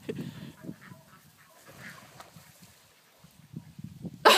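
A duck calls with short, intermittent honking quacks from close by on open water, scattered across the moment with quiet gaps between them.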